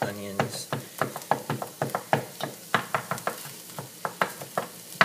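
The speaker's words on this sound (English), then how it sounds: "just gonna give these onions a little bit of mash up" Onions and garlic cloves get mashed in a pan for cauliflower soup, a series of sharp, uneven knocks and scrapes of a utensil against the pan, close and fairly loud, with faint sizzling underneath.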